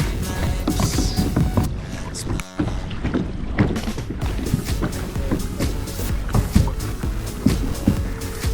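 A kayak moves through choppy water rocked by passing boats in the Alappuzha backwaters, with steady splashing and sloshing, bursts of wind buffeting the microphone, and occasional voices in the background.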